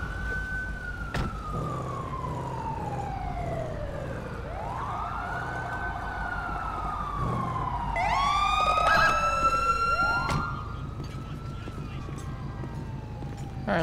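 An ambulance siren in the video game GTA V with the LSPDFR mod wails and yelps in repeated rising and falling sweeps, loud and close, with a second siren layered in partway through.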